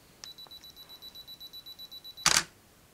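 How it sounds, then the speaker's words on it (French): A Yongnuo camera flash fired remotely by an external trigger whines as it charges with a rapid train of faint ticks and a high tone, then releases one sharp, bright burst of the discharge, close and quiet otherwise. "mon flash s'est déclenché"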